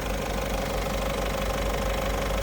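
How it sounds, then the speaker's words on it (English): A Citroën car engine idles steadily while its DENOX system is checked for a blockage. The hum and knocking are even and continuous, close and loud, with no talk. "So we're just going to do it with the engine running here."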